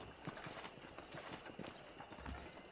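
Horse hooves clip-clop at a walking pace in the video game Red Dead Redemption, a soft, regular rhythm heard faintly and alone.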